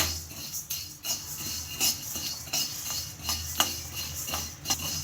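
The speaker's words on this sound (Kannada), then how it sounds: "ಧನಿಯಾ ಹಾಕೊಂಡು ಇದನ್ನ ಫ್ರೈ ಮಾಡ್ಕೋಬೇಕು" Coriander seeds dry-roasting in a pan, stirred steadily with a utensil that gives repeated light scrapes and clinks against the metal over a soft, continuous rustle, close and at moderate volume.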